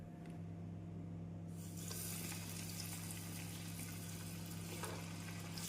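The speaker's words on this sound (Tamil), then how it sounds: "எண்ணெய் நன்றாக காயவும் நாம் மீடியம் ஃப்ளேமில் வைத்து சிக்கனை போட்டு விடலாம்." Coated popcorn chicken pieces frying in hot oil over a medium flame, a steady low sizzle that swells into a fuller, continuous crackle after the chicken goes in, with no talking.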